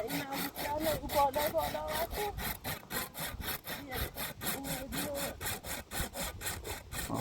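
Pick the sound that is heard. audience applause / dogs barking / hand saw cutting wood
hand saw cutting wood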